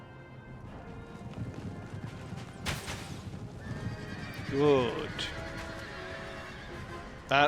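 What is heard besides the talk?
horses neighing in a video game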